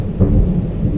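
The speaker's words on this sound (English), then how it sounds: "In all kinds of weather, including rain, wind, and thunder." Thunder from a surround sound effects library rumbles as one deep, loud, continuous roll, heavy and close, with a wash of rain noise underneath and no voices.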